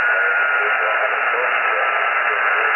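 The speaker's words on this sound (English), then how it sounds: "What you're hearing right now is the Russian antenna." Shortwave radio reception through an RA0SMS Russian mini-whip antenna comes through as a steady, even band of static hiss, loud and unbroken, with no clear signal standing out.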